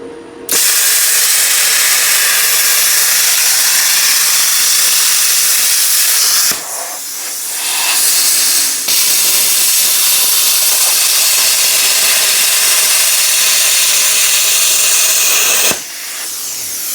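A plasma cutter slices through 3/16 and quarter-inch aluminum plate with a loud, steady, close-up hissing roar, broken by brief pauses between passes.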